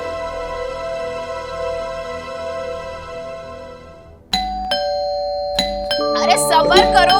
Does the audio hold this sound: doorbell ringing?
yes